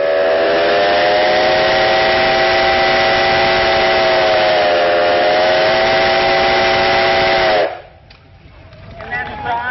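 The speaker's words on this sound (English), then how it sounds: "it has a whistle off the New York Central freight train. I'm going to ask him to blow the whistle" A steam whistle salvaged from a New York Central freight train blows one long, very loud chord-like blast at an old threshers parade, then cuts off sharply and leaves crowd noise behind it.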